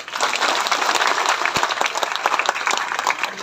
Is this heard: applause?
yes